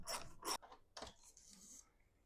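A 3/8 inch socket ratchet loosening the long mounting bolts on a Dometic RV air conditioner, a few quick close clicking strokes followed by a softer scraping rasp, quiet overall.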